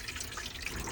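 Water pouring down the drain of a lifted sink in a Nu Venture Elise campervan, a steady close splashing trickle lasting about a second, with no voices.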